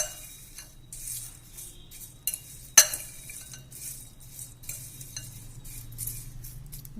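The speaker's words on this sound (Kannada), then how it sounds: "ಇದನ್ನು ಒಂದು ಸತಿ ಫೋರ್ಕಲ್ಲಿ ಮಿಕ್ಸ್ ಮಾಡ್ಕೊತೀನಿ." A fork mixes a potato mixture with fried curry leaves in a bowl, giving faint, scattered ticks and clinks with one sharper knock partway through, over a quiet low hum.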